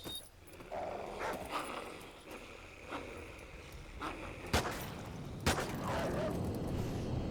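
Dogs and wolves in the Call of Duty Ghosts campaign, heard as dense game combat noise with yips and barks, sharp gunfire cracks near the middle, and a steady loud rumble throughout.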